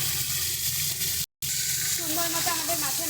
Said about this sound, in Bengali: সুন্দর করে উল্টে পাল্টে আমরা মাছটাকে ভেজে নেব।